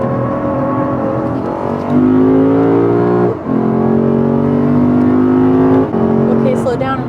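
BMW F80 M3 Competition accelerating hard at full throttle, a loud, close engine drone rising in pitch through the gears, with a short dip at each shift.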